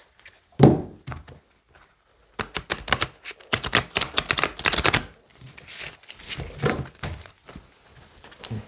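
A deck of tarot cards being shuffled by hand in quick, papery bursts of riffling and tapping, with short pauses between handfuls, close to the microphone and with no voices.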